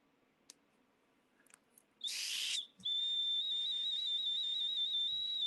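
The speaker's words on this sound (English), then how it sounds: "this whistle here shows like the joining of the serpent and the duck" An ancient Mexican serpent-and-duck ceramic whistle is blown close up, first a short breathy hiss-like blast, then a long steady piercing tone with slight wavering, after a few faint clicks.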